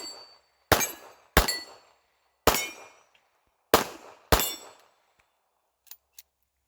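Sig P365 XL pistol fired at steel targets outdoors: five sharp shots, each with a ringing metallic ping and a decaying echo, irregularly spaced, then two faint distant clinks.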